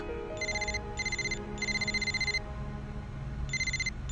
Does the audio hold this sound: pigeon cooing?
no